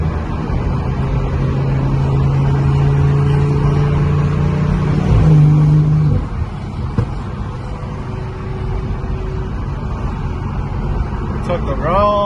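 An RWB Porsche with 215,000 miles cruises on a highway, a steady close engine and road drone with a held tone that shifts and drops about halfway through, continuing as a rumbling hum.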